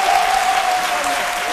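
A studio audience at a French-language midday TV show applauds loudly and steadily, a dense continuous wash of clapping with no pauses and no talk.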